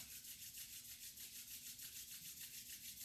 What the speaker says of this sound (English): And rub vigorously for a third time.